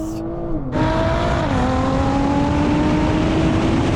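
Porsche 911 Turbo S launching hard on a wet drag strip, the engine note climbing loud and close through gear changes with a steady roar of wheelspin and tyre noise underneath.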